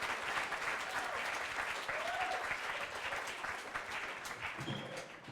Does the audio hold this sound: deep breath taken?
no